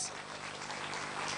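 Applause fills a conference hall at a tech event in Bahrain, a steady, fairly soft wash of clapping from the audience with no distinct voices standing out.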